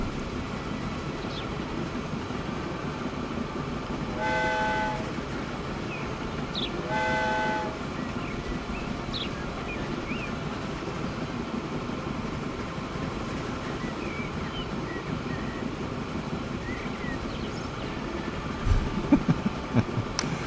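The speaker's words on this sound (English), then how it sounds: "I like how you can hear the birds over the sound of the train." Train running in the video game Factorio, a steady low rumble throughout with two short horn toots near the start and faint bird chirps over the top.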